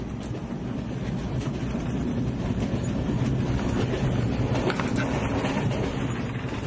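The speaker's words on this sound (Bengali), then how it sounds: "ট্রেন ছুটে চলেছে বৃষ্টিকে ভেদ করে তার নিজের গন্তব্যের দিকে।" A train runs steadily through rain, with a continuous low rumble of wheels and carriages under a broad hiss of rainfall, loud and constant without pause.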